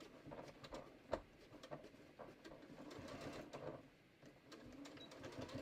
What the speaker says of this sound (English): I'm going to use Kathy's suggestion of stitching back and forth over the zipper to reinforce it